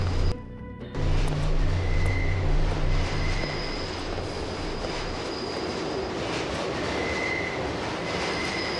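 A subway train in the video game Deus Ex rumbles steadily with a low, continuous roar and faint high squeals, loud and close after a brief silence at the start, with no voices.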